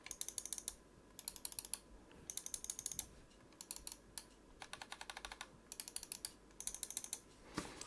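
An MSI Clutch GM41 V2 gaming mouse with Omron switches gives bursts of rapid, crisp clicks separated by short pauses, quiet and close.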